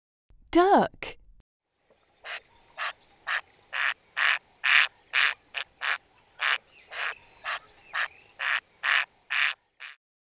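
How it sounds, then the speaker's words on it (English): A duck quacks in a long, steady series of about seventeen evenly spaced quacks, close and clear, after a brief voice at the start. "Duck."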